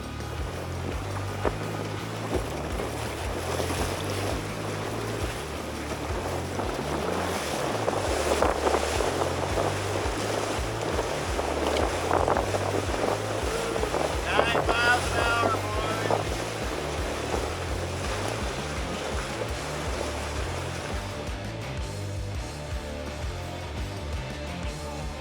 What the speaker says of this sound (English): Some crazy wind.